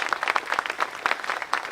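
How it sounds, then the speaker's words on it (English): Audience applause for police academy trainees rises at a September 11 observance. It is a fairly soft, brief patter of separate claps from a moderate distance. "a round of applause for our trainees of our School of Justice Police Academy"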